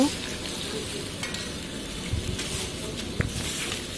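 Bitter gourd and fish curry is stirred in a hot pan, with a steady sizzle and faint scraping running through the clip and one sharp clink near the end.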